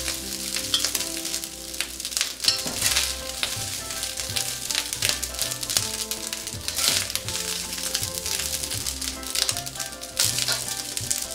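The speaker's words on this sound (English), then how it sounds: "Continue to stir fry for 2 to 3 minutes until the egg is all dried up and the rice is dry and fluffy" Yang Chow fried rice with egg being stir-fried in a hot pan, a steady close sizzle with scraping and tossing of spatula against metal running throughout, no talking.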